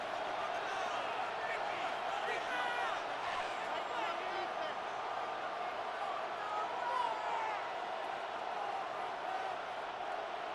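Football stadium crowd in the video game Madden 26 during a Monday Night Football matchup, a steady roaring crowd bed with rising cheers and whoops, heard under a commentator's voice.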